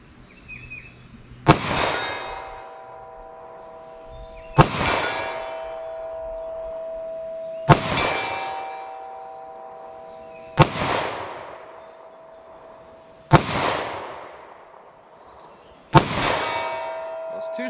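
Six sharp gunshots from a handgun firing hand-loaded 100-grain 327 Federal Magnum XTP rounds at steel, spaced about three seconds apart, each followed by a ringing metallic clang from the struck target, outdoors and fairly loud.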